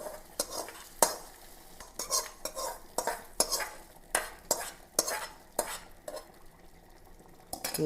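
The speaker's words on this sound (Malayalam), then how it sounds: "കടുകും ഉള്ളിയും കറിവേപ്പിലയും കൂടി എണ്ണയിൽ മൂപ്പിച്ചതാണ് ഇട്ട് കൊടുക്കാം" Mustard seeds, onion and curry leaves fried in oil are stirred into a prawn and tamarind curry, with repeated metal spoon clinks and scrapes against the pot over a soft sizzle.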